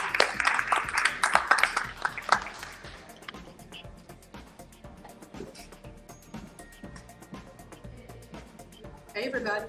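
An audience at a Manhattan book conference applauds an author whose book is Running the Race at God's Pace. A dense burst of clapping fills the opening seconds, then thins out and gives way to quieter room sound and a voice speaking.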